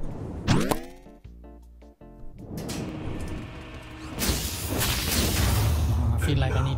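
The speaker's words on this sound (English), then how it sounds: "Just the sound of hammer smashing." Hammer blows smashing robots in the video game Clone Drone in the Danger Zone, a dense run of loud crashing and shattering impacts with whooshing swings over a busy game soundtrack.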